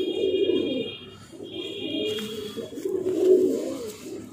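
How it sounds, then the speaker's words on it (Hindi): A high flyer pigeon coos in low, rolling throaty phrases, close and fairly loud, with faint chirps from other birds in the background. "ये बहुत उड़ने वाला कबूतर है।"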